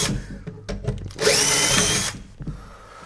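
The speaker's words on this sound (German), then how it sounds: "Jetzt bohre ich auch vor, aber mit einem kleinen Bohrer." A power drill with a small bit whines for about a second as it bores a pilot hole into wood, surrounded by brief clunks and handling noises.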